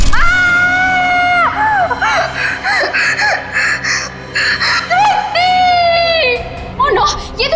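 A woman screams in fear in a crime drama scene, long high-pitched sustained screams broken by sobbing, panicked gasps and cries, loud and close, with distressed talk between screams.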